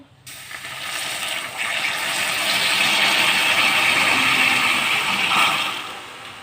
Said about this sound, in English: and then we pour the water